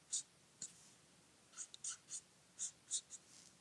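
Colored pencil or marker strokes on card paper, a series of short, soft scratching swipes in an irregular rhythm, close and quiet with no talking.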